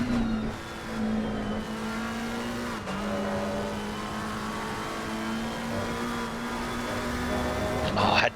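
Race car engine in a Monza online sim racing broadcast drones steadily at high revs, then briefly dips as the driver eases off throttle, all beneath continuous commentator talk.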